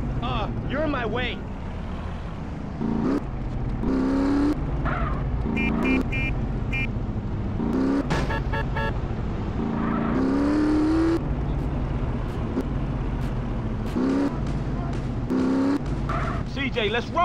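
A car driving in GTA San Andreas, its engine loud and droning throughout, with tire squeals, impacts and voices talking over it.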